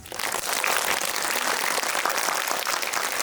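Audience applause closing a film screening Q&A with an actress and director, a dense, steady wash of many hands clapping in a theater, sustained at even loudness with no speech over it.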